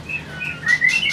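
A wild-caught juvenile white-rumped shama (murai batu) gives a few clear, close whistled chirps and tweets in quick succession, with no talking over them.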